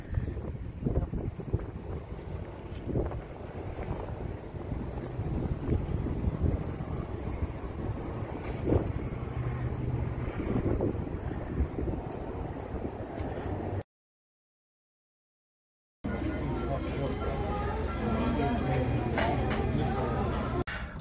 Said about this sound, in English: It's a breezy day.